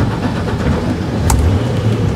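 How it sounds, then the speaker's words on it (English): A Sea Ray 270 SDX boat engine runs loud and steady close by, a dense rumbling drone with no voices over it. "We're just gonna turn the key and she fires right up."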